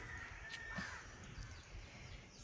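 Crows caw faintly at a distance near a home where coconuts are drying in the sun, a brief call or two over quiet outdoor background hiss.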